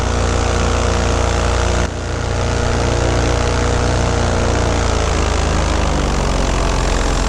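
A light aircraft engine roars loud and close during a takeoff run, a dense, steady drone that briefly dips near the start and then holds strong and continuous, with no voices.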